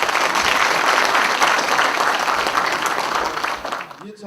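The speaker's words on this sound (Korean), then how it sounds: "더불어민주당 당대표, 기초자치단체장 간담회를 큰 박수와 함께 시작하겠습니다." Loud, steady applause from an audience at a Democratic Party leadership meeting with local government heads in Sejong, continuing for about four seconds before tapering off near the end.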